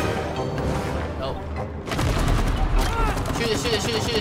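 Rapid gunfire from the video game It Takes Two, dense bursts of shots filling the mix throughout, louder after the midpoint, with players talking over the action.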